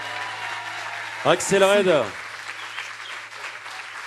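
A studio audience claps at a live radio showcase in a big broadcast studio, steady applause running under a presenter's close speech throughout.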